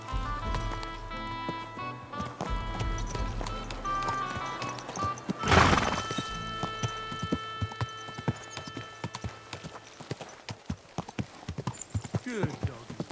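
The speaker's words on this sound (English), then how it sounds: "Easy, good horse." A horse in Kingdom Come Deliverance II neighs and snorts loudly midway through, with steady hoof clops beforehand and scattered hoof strikes afterward, over soft game ambience and some talk.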